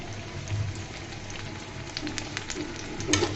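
Chopped onion with garlic fries in hot oil for a jute leaf dish, a close steady sizzle with light crackles and a brief clink near the end, no talking.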